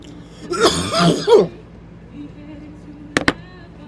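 A person coughs in a quick burst, a few harsh coughs close to the mic, then a short pause and two more sharp coughs later, over faint background TV sound during a football halftime.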